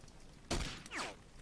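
A single loud gunshot burst in the Wasteland 2 video game, a sharp broadband crack followed by a short tail and a second swooshing impact, alone against a quiet background.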